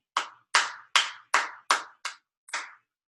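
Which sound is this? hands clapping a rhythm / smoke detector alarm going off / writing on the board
hands clapping a rhythm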